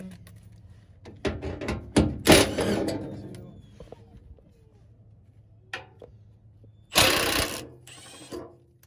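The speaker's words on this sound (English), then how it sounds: "Grab your trusty Milwaukee impact." Several short bursts from a Milwaukee impact wrench driving the bolts on a rear sway bar of a 2000-2005 Toyota Celica, close by with mechanical clunks and clicks between bursts and no talking.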